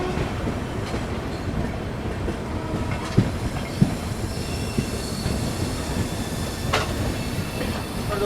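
The New Delhi–Lucknow Shatabdi Express rolls past with a dense, continuous rumble of wagons, a few sharp clacks over the rail joints and faint wheel squeals riding on top.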